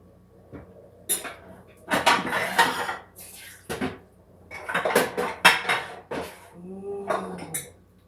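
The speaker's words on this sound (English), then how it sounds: "I will do the dishes." Dishes, pots and cutlery being washed at a kitchen sink, with irregular clinks, clatters and scraping of metal and crockery in close bursts, no talk.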